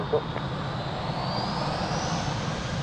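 A fixed-wing airliner's engines roaring at Lisbon Airport during takeoff clearance on runway 02, a sustained broad drone with a slowly rising whine.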